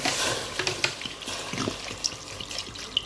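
Water pours into a pot of beef being cooked for biryani, a steady close splashing and trickling with small bright splats throughout, no talk.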